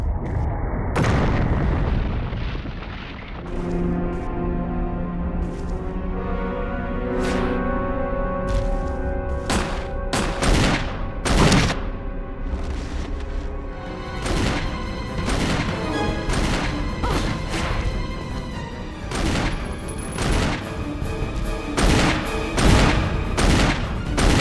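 Rapid gunfire from the Resident Evil GameCube remake's final helipad fight against the Tyrant, with repeated loud shots and booming impacts over a tense music bed, growing denser toward the end.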